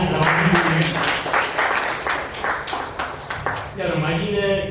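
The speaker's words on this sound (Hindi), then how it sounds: "एक बार जोरदार तालियां रमा जी के लिए।" An audience claps at a children's book launch and spring poetry gathering, a steady patter of applause running under a voice that continues throughout.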